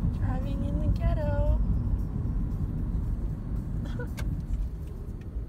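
A car drives through a city neighborhood with a steady, loud low engine and road rumble throughout, while people talk over it.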